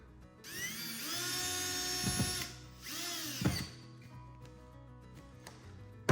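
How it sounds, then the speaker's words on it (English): A power drill drives a screw into drywall during a hole patch repair, whirring in two loud close bursts with rising and falling pitch, then a quieter tail and a short clunk at the end. "I want to make sure the screw kind of goes a little bit into the drywall"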